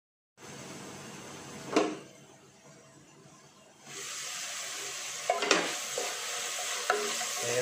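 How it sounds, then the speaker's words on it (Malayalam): Chicken kadai masala frying in a pan and being stirred, a steady sizzle with a sharp scrape near the start, a quieter spell, then louder frying with several spoon clacks against the pan. "പച്ച മണം മാറുന്നതുവരെ ഒന്ന് നമ്മൾ ഇളക്കി കൊടുത്താൽ മതി"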